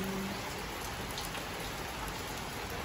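Steady rain falls around a house under construction, a dense even hiss of drops on surfaces with no pauses, fairly close and constant throughout.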